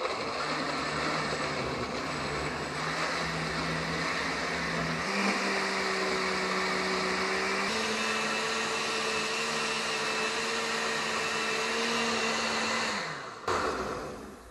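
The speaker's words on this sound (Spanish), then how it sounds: "Miren, vamos a licuar todo esto." Kitchen blender motor whirring steadily as it purées spaghetti sauce ingredients with milk, the pitch shifting a few times as the load changes, then cutting off near the end.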